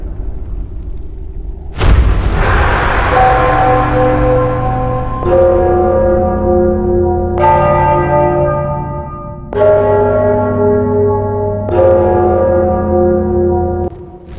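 A large bell in the video game Enderal tolls four times in slow succession, each deep, loud strike ringing out and decaying before the next.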